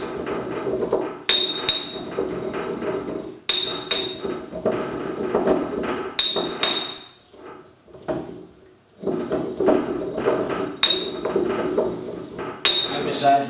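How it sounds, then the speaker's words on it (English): Dried flowers for Dit Da Jow liniment being ground by hand, giving repeated clanking, scraping strokes of metal and crockery in steady bursts with short pauses, close and fairly loud. "Also grinding the already dried flowers is good, because that still opens them up a little bit more"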